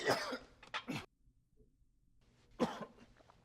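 A few harsh coughs in a quick burst, then a pause and one more loud cough, close to the microphone.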